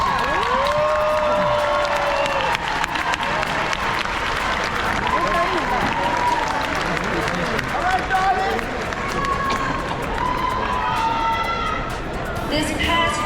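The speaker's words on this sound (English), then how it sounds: "please stand and thank your families for their support and encouragement with a round of applause." A large MBA graduation crowd gives a full, steady round of applause, with cheering and shouts mixed into the dense clapping throughout.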